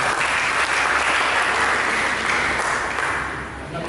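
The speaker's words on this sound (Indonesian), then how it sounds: "Berikan tepuk tangan dulu." Steady, loud applause from a church congregation, sustained throughout and tapering slightly toward the end.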